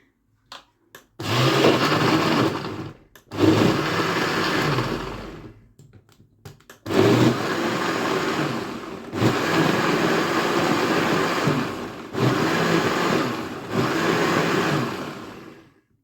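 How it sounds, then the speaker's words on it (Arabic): An electric blender beats orange cake batter made with a single orange, whirring loudly and steadily in several long runs separated by short pauses, with no voices. "هنضرب جامد جدا لحد ما كل الخليط البرتقال والخليط المكونات التانية كلها تنعم وتندمج مع بعضها"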